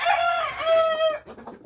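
A chicken in a backyard coop with a rooster present gives a loud, close, drawn-out squawking call, then a few softer clucks trail off.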